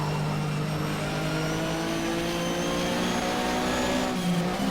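A Porsche Mobil 1 Super Cup race car engine in Race07 at Brands Hatch, droning loudly and steadily with rising revs under acceleration, a continuous close in-car roar with no talking.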